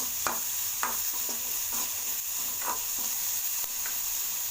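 Tomato sautés in a little oil for chitranna, a lemony rice dish, with a soft, steady sizzle and hiss broken by a utensil scraping and stirring roughly once a second, close but fairly quiet.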